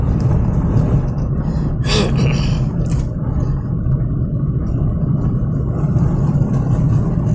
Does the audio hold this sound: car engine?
yes